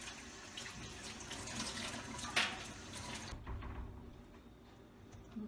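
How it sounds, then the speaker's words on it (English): A kitchen tap runs steadily while hands are rinsed beneath it, a close splashing stream that cuts off partway through, leaving quieter dripping and handling sounds. "Okay, I'm gonna wash my hand."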